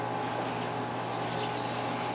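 Laundry water runs steadily into a washing machine, a close, constant rushing hiss with no pauses and no voices.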